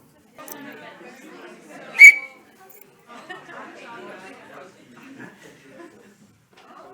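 A single short, shrill whistle blast cuts through a room of chattering voices, with talk continuing before and after.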